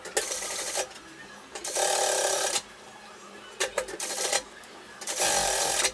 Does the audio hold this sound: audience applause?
no